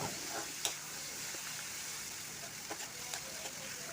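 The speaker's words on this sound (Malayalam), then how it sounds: "തക്കാളിയും കൂടി ചേർത്ത് നല്ലതുപോലെ ഒന്ന് വഴറ്റി കൊടുക്കുക" Tomato and onion sautéing in a pan for an egg masala, a soft steady sizzle with a few faint clicks and scrapes of stirring, quiet and close, with no voices.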